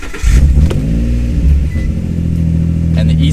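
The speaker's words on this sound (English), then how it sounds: "Now you can go ahead and start the car." An Infiniti G35 or Nissan 350Z V6 cranks and catches after a throttle body cleaning and ECU reset, surging loudly in a quick rev before settling into a steady, close idle.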